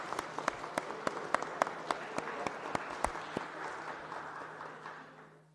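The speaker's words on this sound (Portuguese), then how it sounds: "Peço uma salva de palmas a todos os vereadores e vereadoras." Applause from councillors in a Curitiba city council chamber: a steady wash of many hands clapping, loud and close at first, with distinct sharp claps standing out, then thinning and fading toward the end.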